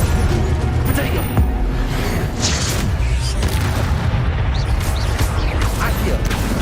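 Hogwarts Legacy combat with a Protego shield spell: booming magical impacts and clattering crashes pile up in a dense, loud mix, with a voice talking over them throughout.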